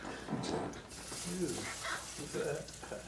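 Steady hiss and crackle of crab cakes searing in hot oil, close and continuous, with a voice murmuring faintly underneath.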